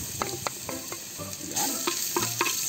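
Ginger and garlic sauté in a clay pot, a close, steady sizzle with scraping stirs and clinks of the utensil against the pot, growing slightly louder partway through, with no talking.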